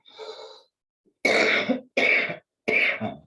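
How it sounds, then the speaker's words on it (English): A person coughs three times in quick succession, harsh and close, after a short bit of quieter vocal sound. "Sorry to cough."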